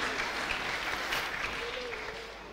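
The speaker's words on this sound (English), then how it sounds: "Clap for her." An audience at a church youth quiz program claps for a contestant, a steady faint spread of clapping that tapers off toward the end.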